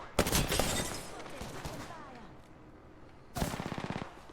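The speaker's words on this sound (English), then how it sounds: "Opening fire. Shots fired." Video game gunfire, two rapid bursts of automatic shots, loud and close, with a quieter gap and scattered sounds between them.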